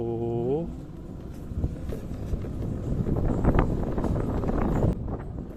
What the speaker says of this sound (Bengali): অনেক বেশি বাতাস, আপনারা বাতাসের শব্দ শুনে বুঝতে পারছেন